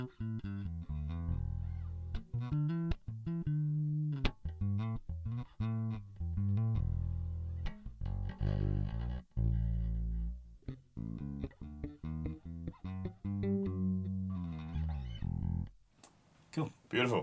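Bass guitar played clean and direct into a converter (DI), a run of plucked notes with a deep, dry tone and short gaps between phrases.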